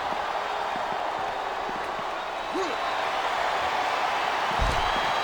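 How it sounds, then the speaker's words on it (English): Arena crowd noise from the wrestling video game WWE SmackDown vs RAW 2007 during a Buried Alive match, a steady dense roar of cheering under commentary voices with occasional thuds. "This capacity crowd is making their opinions known tonight."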